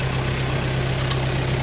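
A Kubota tractor engine idles close by with a steady, low, even rumble, unchanging and alone while implements are being swapped.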